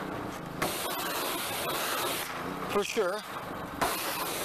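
Water sprayed onto a car floor mat during interior detailing, a steady hiss running through most of the stretch with a brief burst near the end, while a person speaks over it.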